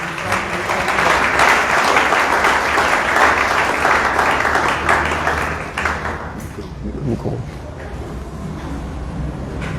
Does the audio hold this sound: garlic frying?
no